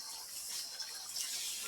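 Water pours steadily into a cooking pan while making brown stew pork, a soft, continuous hiss heard close and alone for under two seconds.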